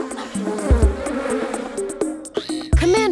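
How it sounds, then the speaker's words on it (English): Cartoon bees buzzing in a swarm inside an undersea base from Octonauts, a busy insect drone layered with music and sound effects, rising and falling in loudness throughout. "So many bees!"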